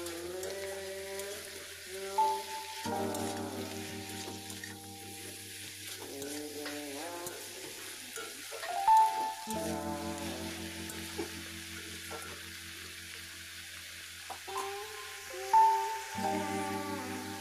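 Cabbage sautés in a pan with turmeric, salt and chili powder, a soft continuous sizzle broken by scraping stirs, with background music running throughout.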